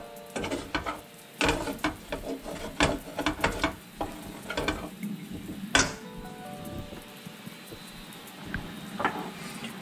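Eggs being whisked into carbonara sauce in a kitchen, a fast run of close metallic taps and scrapes with short bursts and pauses, no talking.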